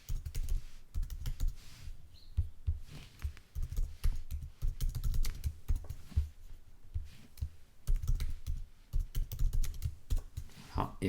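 Continuous typing on a computer keyboard, a dense run of close, irregular keystrokes and clicks that lasts throughout with brief pauses, with no speech.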